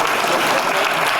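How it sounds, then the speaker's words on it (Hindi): Sustained applause from a theatre audience at a Hindi stage play, dense steady clapping filling the whole moment at full strength without a break. "तालियां बजती रहनी चाहिए।"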